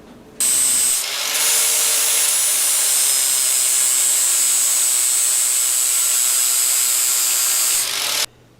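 A power grinder works on metal pieces on a Honda Sabre motorcycle frame, a loud continuous high whine with a steady low hum that starts abruptly, holds for several seconds and then cuts off.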